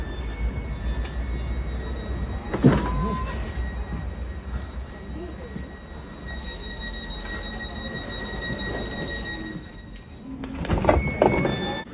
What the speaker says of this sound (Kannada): ಹೋಯ್ತು ಟ್ರೈನ್ ಬಂದಿದೆ.